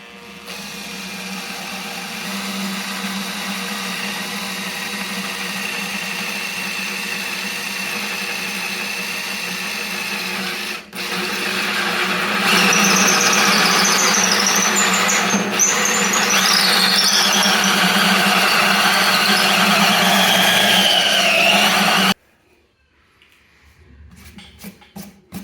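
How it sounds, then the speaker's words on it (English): A power drill bores into a boat's dashboard during a Reef Runner rebuild, its loud steady whine holding for about twenty seconds, with a brief dip and then a rising squeal near the end before it cuts off abruptly. "This is it, drilling the dash, one-way trip."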